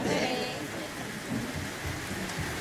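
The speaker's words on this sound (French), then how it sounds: "Voilà, la pluie commence à tomber, elle est prophétique." Rain begins falling outdoors in southern France, a steady broadband patter with low rumbles that could be distant thunder, fairly loud and continuous, with faint voices underneath.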